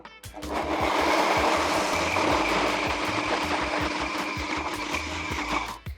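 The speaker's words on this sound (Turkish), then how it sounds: "Bunların hepsini pürüzsüz olması için blenderımdan geçirmeye başlıyorum." A countertop blender whirs steadily for about six seconds, puréeing vegan parmesan ingredients with apple cider vinegar, a loud continuous motor roar with grinding texture that starts abruptly and cuts off near the end.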